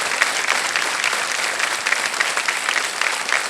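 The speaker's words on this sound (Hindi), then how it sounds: "ये जो ताली है ये बड़े भैया की ओर से है" A TV quiz show studio audience applauds in a sustained burst, many hands clapping close and loud at an even level throughout.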